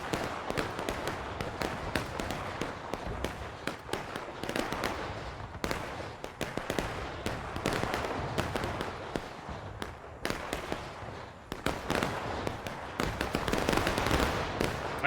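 Dense, continuous crackle of massed musket fire with heavy booms mixed in, rolling steadily from near and far across a Civil War battlefield in War of Rights, a Union and Confederate fight at Flemings Meadow.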